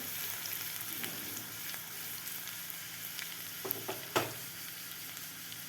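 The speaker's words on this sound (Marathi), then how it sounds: "पहिलं लसूणसुद्धा थोडासा आपल्याला फ्राय होऊ द्यायचं आहे" Crushed garlic cloves fry in a pan for a methi rassa bhaji. There is a soft, steady sizzle with a few faint clinks near the end, and no voices.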